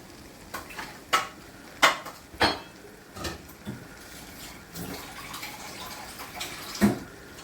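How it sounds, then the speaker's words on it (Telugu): Water poured into a pan of potato and phool makhana curry paste to thin it into gravy, with several sharp splashes and stirring clatters followed by a softer simmering sizzle, close and fairly quiet. "వేసుకొని కొంచెం గ్రేవీ కన్సిస్టెన్సీ వచ్చేటట్టుగా సరిపడా వాటర్ వేసుకోవాలి"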